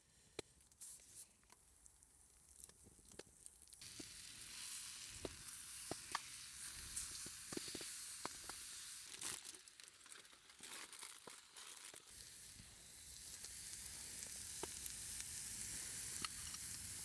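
Food sizzles and fries in butter seasoned with salt, pepper and rosemary inside a tin foil parcel at a frozen winter bushcraft camp, a steady close crackle with crinkling foil and occasional soft pops throughout.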